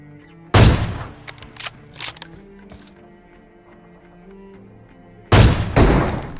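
Gunfire rings out in a battle royale video game: two loud bursts of rapid shots, one early and one near the end, with smaller scattered pops and a quieter gap in between.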